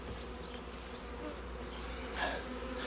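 Honey bees drone steadily in a package being readied for a queen-rearing starter colony, a dense, continuous buzz close by with no talking.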